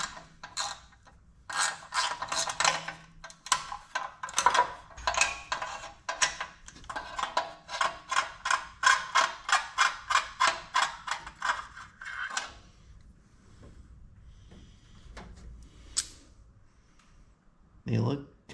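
A ratchet wrench clicks rapidly in repeated bursts while spark plugs are pulled from a Dodge Duster engine, close and sharp metallic ticking that stops and starts, ending with a few clanks.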